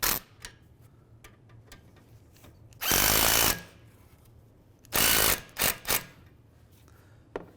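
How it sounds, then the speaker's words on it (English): A ratchet or power tool tightens the nuts on the A/C lines of a 2015–2019 Hyundai Sonata during a condenser replacement, in two loud whirring bursts followed by shorter ones, with light clicks and handling noises between. "Now we can go ahead and tighten down our nuts"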